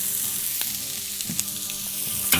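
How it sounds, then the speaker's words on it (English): Pulled pork sizzles on a hot grill in a steady, soft frying hiss, broken by a few sharp pops and a scraping stir near the end, with no voices. "we're next going to throw on our pulled pork"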